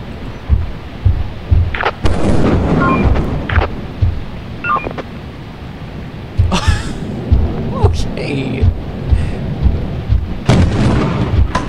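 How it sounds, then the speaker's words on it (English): Repeated thunderclaps and rumbles from lightning strikes in a survival video game, loud and close with rolling booms across the scene, heard under talk from players. "Lightning strikes by the looks of it."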